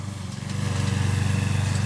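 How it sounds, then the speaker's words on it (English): Lawn mower mowing a yard, a loud close engine drone with a steady low throbbing pulse that holds constant throughout. "How's she mowing a yard in house shoes"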